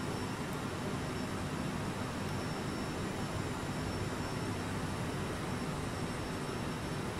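A CRJ jet airliner in Microsoft Flight Simulator climbs with a steady, even cockpit engine drone and broadband air rush, constant and unbroken, with no talk.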